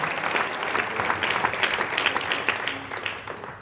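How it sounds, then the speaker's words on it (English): Church congregation clapping their hands during a sermon, a sustained, lively patter of many hands at moderate distance with a faint murmur of voices beneath, steady across several seconds. "Why don't you clap your hands"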